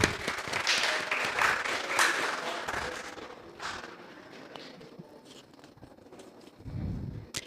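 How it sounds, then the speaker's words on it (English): Applause from a conference audience at a healthcare meeting, a dense patter of clapping that starts strong, thins out toward the middle and swells briefly again near the end. "Giving applause to our speaker, Dr. Varsha."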